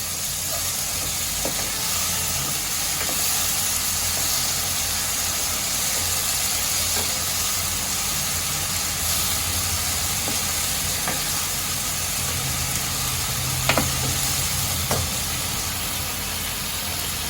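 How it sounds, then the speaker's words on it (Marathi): Steady frying sizzle from a pan as tomato puree is added and stirred into cooking eggplant for a spicy Khandeshi bharit, with occasional light scrapes and clinks of a spoon; no talking. "मी ह्याच्यामध्ये टोमॅटोची जी आपण प्युरी करून घेतली आहे ती घालून घेते सर्वांना एकत्र करून घेते"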